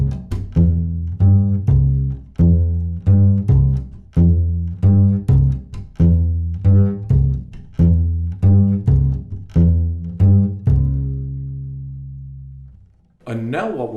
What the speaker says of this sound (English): Now we'll try a rumba beat